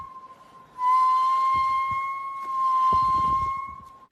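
A walrus whistles: a long, steady high-pitched whistle holds for several seconds, close and loud, with faint rustling and thumps beneath it.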